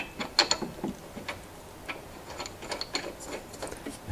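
A part is threaded into a Tecumseh small-engine carburetor, producing faint clicking and scraping metal-on-metal ticks in an uneven rhythm, close up and quiet with no talk.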